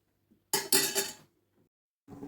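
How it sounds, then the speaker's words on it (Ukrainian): A few quick clinking rattles of glass jars knocking together in a pot of boiling water, bunched in a short burst, then a brief pause and another clatter begins. "щоб кострулька трусилася і баночки цокотіли"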